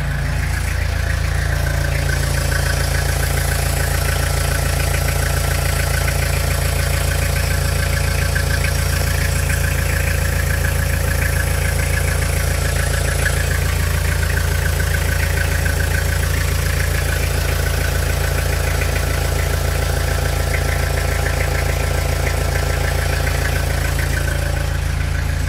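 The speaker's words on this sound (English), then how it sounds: "You can certainly hear the whistle of the turbo." A turbocharged car engine idling with a steady, even drone close by and a faint high turbo whistle running over it, continuous and unchanging for the whole stretch.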